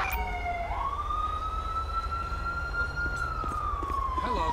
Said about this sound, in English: Get EMS out here. Ambulance.